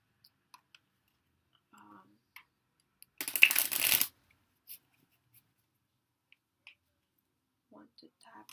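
A single brisk burst of tarot card shuffling, about a second long, close and crisp, with faint soft clicks and near-silence around it.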